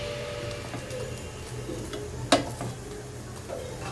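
Paratha frying in hot oil gives a steady, close sizzle that continues throughout, broken midway by one sharp utensil clatter. No one speaks.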